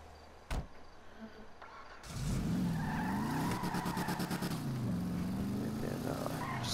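A free Burger Shot car in the video game GTA 5 revs hard and skids, its engine roaring steadily with tire squeal. A brief sharp knock comes first, before a sudden loud onset with no talk.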